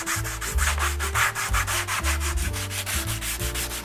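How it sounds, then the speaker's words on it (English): Rhythmic back-and-forth rubbing of 220 or 150 grit sandpaper on a wooden leading edge, close and steady strokes with no talking. "You can also do any final sanding and smoothing with either 220 or"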